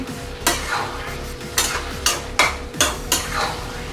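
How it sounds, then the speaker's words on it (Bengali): Spatula stirring pointed gourd and prawn curry in a pan, a Bengali potol chingri near the end of cooking: about six distinct scraping strokes at a steady rhythm, each followed by a brief gentle sizzle, close and clear. "আমার পটল চিংড়ি একদম শেষের পথে, আর একটু নাড়াচাড়া করে নিলেই"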